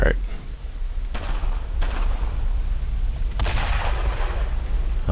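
Heavy artillery shells burst nearby in a WWII video game set in June 1944, three or four sharp booming impacts spread across a few seconds over constant low battle rumble, with someone talking between them.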